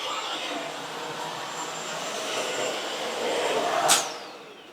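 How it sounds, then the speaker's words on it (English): A Bosch Unlimited 7 ProHygienic Aqua cordless vacuum and mop runs with a continuous airy whir that swells slightly, and a brief sharp squeak sounds near the end. "So we're vacuuming and mopping the floor"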